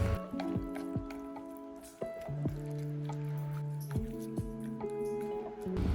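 Beaten egg is stirred into marinated chicken, giving wet squishing and sticky dripping sounds in irregular bursts, fairly quiet and close, with no talking.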